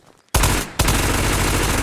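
A new gun in the video game Ghosts of Tabor fires rapidly in two close, loud full-auto bursts. The rattle is dense and continuous, with a short gap between the bursts.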